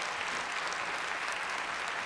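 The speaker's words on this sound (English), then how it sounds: "How about a round of applause for those good folks?" Steady, dense applause from the audience at the 2011 CreaTiVe Awards ceremony, fairly faint and continuous throughout with no pauses.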